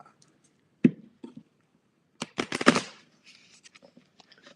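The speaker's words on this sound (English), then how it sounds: "It's really weird when you shuffle so little cards" Tarot cards, only the small major-arcana deck, shuffled by hand in a few short riffling bursts with pauses between, close and fairly quiet, with a denser flurry of card slaps midway and light taps trailing off at the end.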